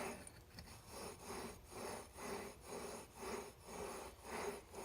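A part is rotated back and forth against abrasive lapping compound, a soft gritty rasping rub repeating in even strokes about every half second, quiet and close with no talk.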